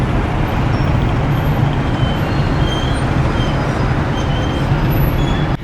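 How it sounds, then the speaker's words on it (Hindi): Heavy road traffic in Isfahan, Iran, a dense continuous roar of engines and tyres with a steady low rumble and no gaps, loud and close. "भाई साहब कितनी ज़्यादा ट्रैफिक लगी है यार।"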